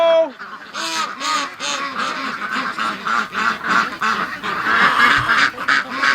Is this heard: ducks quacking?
yes